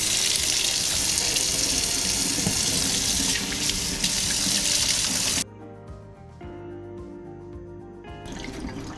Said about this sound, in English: we're gonna go over to the sink and wash our hands